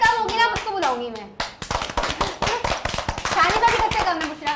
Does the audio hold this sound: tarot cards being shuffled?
no